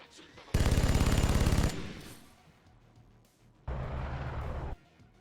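Rapid automatic gunfire in the XCOM Long War of the Chosen video game: two sustained bursts of dense, loud rattling, the first about a second long, the second after a short pause, with quieter game ambience between.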